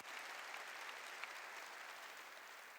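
A church congregation applauds during a sermon, with a steady, dense wash of many hands clapping evenly, fairly faint and distant with no talk over it.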